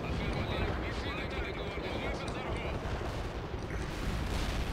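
Units in the World in Conflict real-time strategy game keep up dense, continuous gunfire and artillery, a thick roaring barrage of overlapping shots with a player talking over it.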